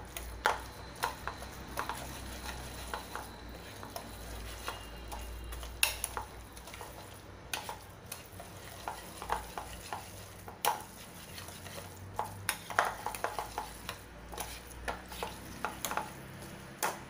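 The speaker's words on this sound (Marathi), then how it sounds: "म्हणून याचं रवीने मिक्स करून घ्यायचं आहे" A whisk stirs suji batter of semolina and curd in a bowl, giving soft irregular scraping and tapping strokes, faint and close, with sharper clinks against the bowl's rim now and then.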